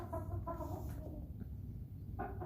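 Hens clucking close by in short bursts, with a steady low background hum throughout.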